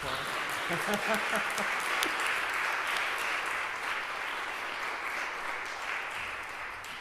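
Warm audience applause in a church during a Lenten concert, thick sustained clapping that gradually fades, with a brief murmur of voices near the start.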